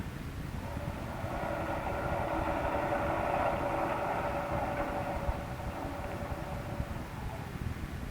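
A ship's engine with a fouled propeller running full speed astern in a radio drama, a steady loud rumbling drone with a throbbing mechanical hum that holds level throughout.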